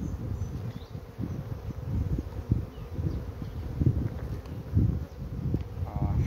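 Honey bees buzzing around an open hive as its frames are checked, a steady low insect hum with rustling and soft handling knocks, close and moderately faint, with some quiet talking.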